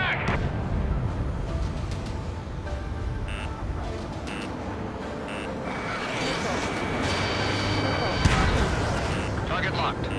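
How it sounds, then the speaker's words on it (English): Missile fire in the combat flight game Ace Combat 7, buried in a dense, continuous roar of jet and battle noise with radio voices speaking over it. "Damn it, missile fired."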